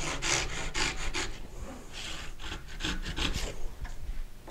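Close up, a hand saw cuts a dovetail in wood with a dovetail guide, a rhythmic rasping stroke repeated about a dozen times, steady and fairly loud.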